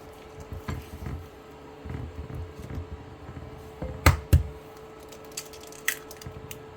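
Eggs being stirred one at a time into sweet potato cupcake batter: a soft, wet mixing sound with a couple of sharp clinks against the bowl, close and fairly quiet.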